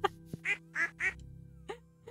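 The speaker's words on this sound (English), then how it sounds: "duck." Several short nasal duck quacks from the video game Stardew Valley, loud and close, sounding alone over a faint steady background hum.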